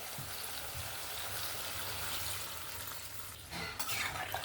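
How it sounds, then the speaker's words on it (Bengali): Water poured into a pan of katla fish curry with mustard paste, giving a steady close sizzle and bubbling hiss throughout, with a brief louder splash of liquid near the end. "এবার আমি জলটা দিয়ে দেবো পরিমাণ মতন"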